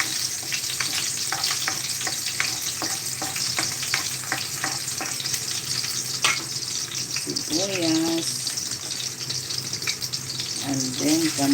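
Chopped onion hitting a hot frying pan as mongo is cooked after garlic, giving a steady crackling sizzle with scraping stirs and a few clinks throughout, with a brief voice partway through.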